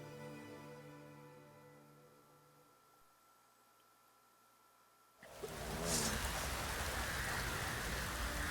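A heavy rain downpour in The Witcher 3 bursts in suddenly after a quiet, fading stretch, then continues as a loud, dense hiss of falling water.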